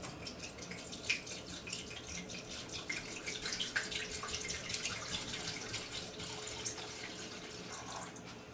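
Smirnoff pink lemonade trickles and drips through a water purifier, a faint, steady liquid patter with scattered drops, heard close with no one speaking.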